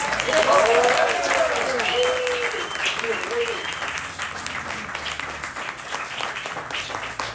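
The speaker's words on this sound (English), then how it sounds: "let's give them a round of applause" Applause from an audience at a campaign event for a San Francisco mayoral candidate, loud at first and then slowly thinning, with voices talking over it.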